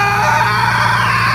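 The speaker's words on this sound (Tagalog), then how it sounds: "May sumigaw! Saan galing yun?" A person screams in a dark rural setting, a sustained high, strained wail that stays loud and close for the whole short stretch with no pauses.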